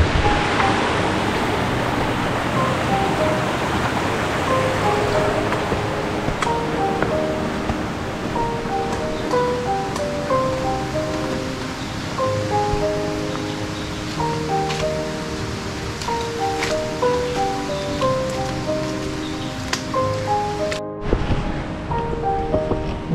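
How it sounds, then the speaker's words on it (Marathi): A rushing forest stream below Kshirdhara waterfall near Channat gives a loud, steady broadband roar. Faint tonal chirps, probably birds, run over it before a brief cut near the end. "तिकडून आवाज जास्त येते पाण्याचा"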